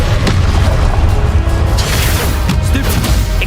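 A Confringo spell exploding in Hogwarts Legacy, a loud, continuous rumbling blast with crashing bursts layered on top, close and dense throughout, with no talk.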